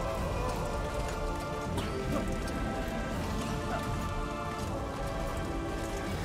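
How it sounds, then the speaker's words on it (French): Steady rain in The Witcher 2: Assassins of Kings, a dense, even hiss of drops pattering on surfaces throughout, with faint clopping and game ambience beneath and no clear talk. "cette dramaturgie avec la pluie et tout"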